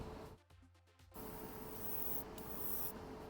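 Airbrush spray hissing steadily as paint goes onto an MG Providence Gunpla model in Millennium Falcon colours, a short stuttering burst first, then a continuous close broadband hiss with no talking.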